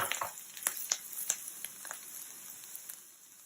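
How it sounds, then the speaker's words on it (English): Half an onion sautés in oil in a pan with soft, scattered crackles and pops over a light frying hiss, gradually easing quieter. "add a little bit of oil to it, and then about 1/2 an onion, and start to saute"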